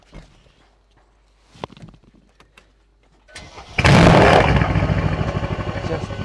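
A Mercedes C63S fires up after a few quiet clicks and footsteps, its exhaust bursting into a loud startup roar recorded close to the tailpipe, then settling into a strong, rumbling idle.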